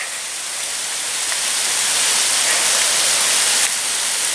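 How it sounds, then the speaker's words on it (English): A small waterfall rushes in the rain at a park, a continuous loud watery hiss that swells slightly partway through, with no talk. "A little waterfall there."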